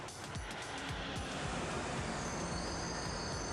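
A Montreal metro train rumbles and clatters through an underground station on a Saturday, a dense, steady roar of wheels and cars with faint high squeals near the end.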